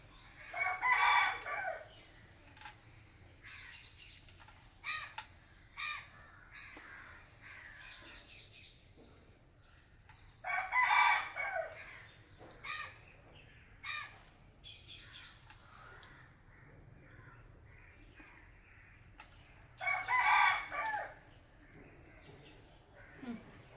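A rooster crows loudly several times at roughly ten-second intervals, long strained calls, with hens clucking and scattered clatter and thumps in between, outdoors in a rural yard.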